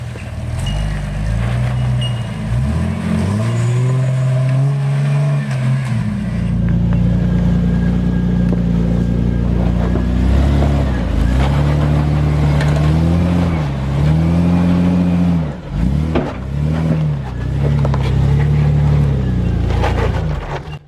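A 4x4 Toyota Land Cruiser 100 series engine labours up a steep off-road climb in the Watagans, a loud, steady low rumble that rises and dips as the throttle is worked, with no talk over it.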